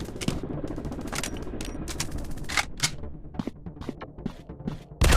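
Gunfire in a Counter Terrorist 3D first-person shooter game: rapid, sharp bursts and single shots crackling in irregular clusters, loud and close, with a heavy blast at the end.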